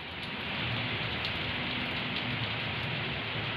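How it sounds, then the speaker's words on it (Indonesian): Heavy rain pours down in Jakarta, a dense, steady hiss of drops drumming on surfaces close by, constant and loud with no voices over it. "karena hujannya lumayan deras banget sih"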